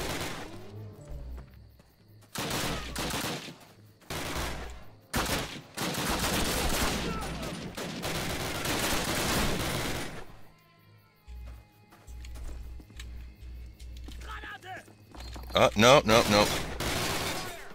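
Bursts of rapid gunfire in the Call of Duty video game, loud shots and automatic volleys broken by short gaps, with a person's brief remark in the clip.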